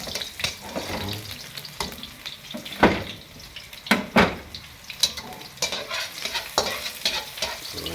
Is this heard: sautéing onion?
yes